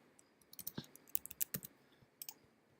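Quiet, close clicking of a computer keyboard as a zip code is typed in: a short burst of uneven keystrokes with brief pauses, faint against a low room hiss.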